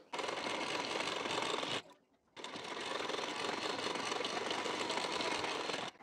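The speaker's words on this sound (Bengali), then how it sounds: "এখন বেল্টের পার্টের কানা বরাবর করে দুটি চাপ সেলাই দিয়ে নেব" A sewing machine stitches along the edge of a blouse belt piece, a loud, steady whirring drone close by that stops for a moment and then starts up again at the same even pace.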